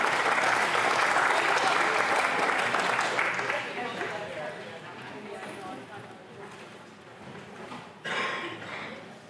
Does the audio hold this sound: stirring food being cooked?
no